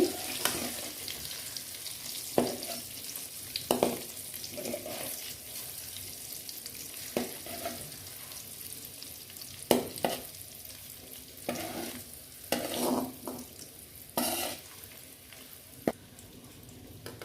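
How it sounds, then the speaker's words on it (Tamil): Eggs frying in oil in a pan for a simple egg gravy, turned on both sides, give a steady close sizzle broken by repeated clinks and scrapes of a spatula, with no talking. "லைட்டாக அப்படி ஃப்ரை பண்ணி எடுத்துக்கோங்க முட்டையை ரெண்டு பக்கமும் திருப்பி"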